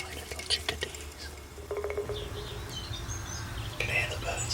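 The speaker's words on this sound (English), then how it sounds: "Can hear the birds out there, juddering away to the sun." Chickadees chirp and tweet in short, scattered calls from outdoors, fairly faint over a low background rumble, with quiet murmuring voices.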